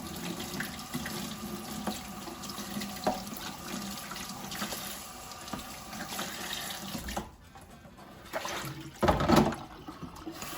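An espresso machine's drip tray, stained with collected coffee, is rinsed under a running tap, water pouring steadily into a sink, then pausing briefly before a louder splashing gush near the end.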